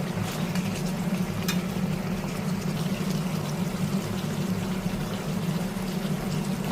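Meat simmering in a pot as it releases a lot of water, a steady close bubbling and hissing that holds at an even level throughout, with no talk.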